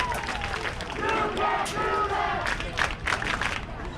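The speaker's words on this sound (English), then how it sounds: "And you hear the crowd with that response." A football game crowd at an Evanston versus Ben Lomond matchup roars and cheers in a sustained wash of noise, with scattered claps and shouts rising and falling over about four seconds.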